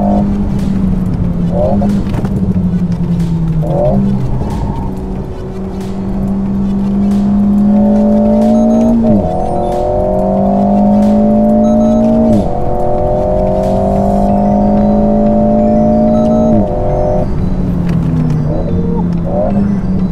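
An Alpine A110 sports car revs hard and accelerates on a race circuit, its engine note climbing repeatedly through gear changes, loud and close, with occasional voices underneath.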